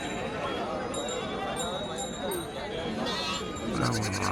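Goats bleat at the busy Mukkoodal goat market, the cries rising over a steady bed of crowd chatter and nearby talking.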